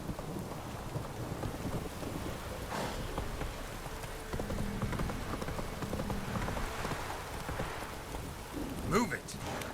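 Roach, the horse in The Witcher 3, gallops in a steady hoof rhythm beneath heavy rain and rumbling thunder, with a brief sharp rise near the end.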